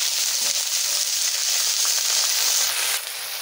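Onion and garlic paste fries in hot oil for a jackfruit curry, giving a loud, steady, close sizzle that runs without a break and eases slightly near the end.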